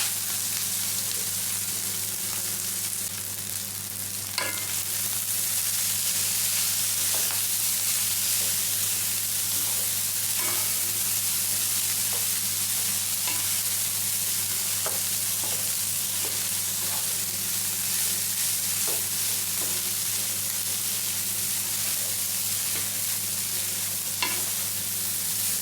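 Cold rice stir-fried in a pan with onion and garlic gives a steady, close sizzle, with occasional scraping clicks of the spatula as it is stirred, and no talking.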